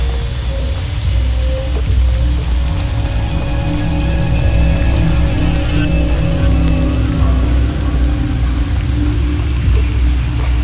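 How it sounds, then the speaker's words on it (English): Rain falls steadily in the LA Noire video game, a loud continuous patter on surfaces over a low rumbling bed, unbroken for the whole stretch with no voices. "To make it worse, it has to rain, doesn't it?"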